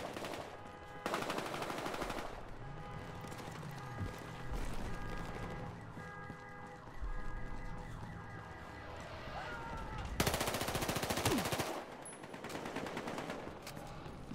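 Dense bursts of automatic gunfire in Battlefield Hardline beta heist gameplay crackle in loud stretches, mixed with sirens and other game effects, with pauses between volleys.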